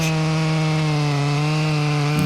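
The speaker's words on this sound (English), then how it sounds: "I use the top of the saw to bore in" A chainsaw bores its bar tip into an ash trunk, the engine droning loud and steady at high revs throughout, close up, with no talk.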